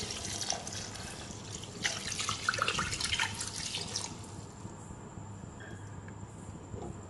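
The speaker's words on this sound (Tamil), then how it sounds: "இதில் 1 லிட்டர் அளவுக்கு தண்ணி சேர்த்துக்கலாம்." Water runs and splashes into a cooking pot for a few seconds, then settles into a quieter trickle with faint drips.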